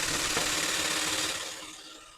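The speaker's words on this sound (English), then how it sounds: "Some of this will be done with sandpaper" Steady, close scraping and rasping of sandpaper rubbing tar undercoating off a car's driver side muffler, continuous and then fading slightly at the end.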